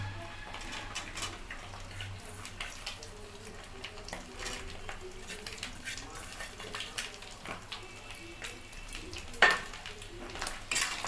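Chopped onions fried in fish oil in a kadai and stirred, with quiet sizzling under repeated light clinks and scrapes of a utensil against the pan.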